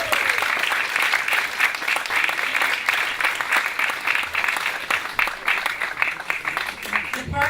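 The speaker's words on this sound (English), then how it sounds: "I think that deserves a cheer." At a JFK birthplace memorial ceremony marking a National Park Service anniversary, a crowd applauds steadily, a dense, fairly even clapping texture that carries on for several seconds with slight swells and dips.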